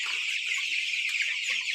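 Hundreds of tiger breed chicks fill the air with a dense, unbroken wall of shrill peeping, loud and close, with a few faint clucks beneath.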